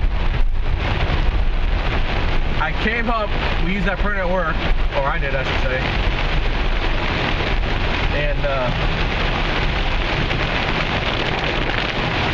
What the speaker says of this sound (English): It is pouring rain if you can't hear.